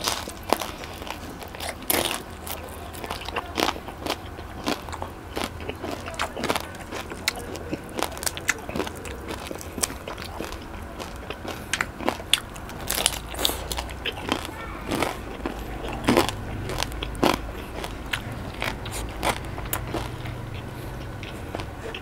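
Crispy fried pork head, ear pieces dipped in vinegar with onion, garlic and chili, crunched in repeated close, sharp bites with chewing between, loud and near, alone without talk.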